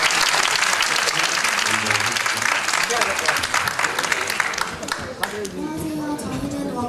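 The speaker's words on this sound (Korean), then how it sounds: "자, 박수 한번 주시기 바랍니다." Audience applause at a youth debate battle at the 2013 Iksan Youth Culture Festival, a dense, steady burst of clapping from a crowd, loud and sustained before easing slightly toward the end.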